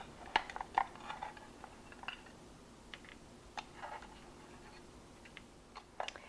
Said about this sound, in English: I'm going to remove these from the pan and put them on a cooling rack